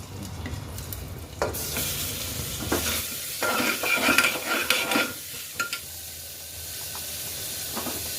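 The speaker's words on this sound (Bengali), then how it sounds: "বাটারটা একটু বেশি গরম হয়ে গেছে রসুনগুলো দিয়ে দিচ্ছি আর চিকেনগুলো দিয়ে দেবো" Garlic and chicken pieces hit overly hot butter in a pan, bursting into loud sizzling and spattering with a few scraping stirs and pan knocks, the hiss easing back toward the end.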